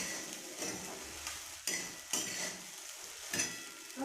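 Sabudana khichdi is stirred in a pan with a spoon, giving soft scraping and stirring strokes. Four or five sharper clinks of metal against the pan mark the strokes over a faint sizzle, all at low level with no talk.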